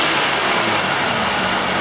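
A car engine with a cylinder 5 misfire caused by a clogged fuel injector gets a sharp throttle snap, a brief loud rev up close with a rough, broadband roar.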